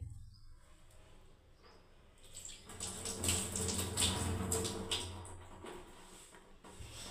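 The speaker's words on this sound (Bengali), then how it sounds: "এবার হাতটা একটু ধুয়ে নিই" Hands being washed under a running tap in a kitchen: a soft hiss of flowing water swells for a few seconds and then fades, heard close with faint background chirps and no speech.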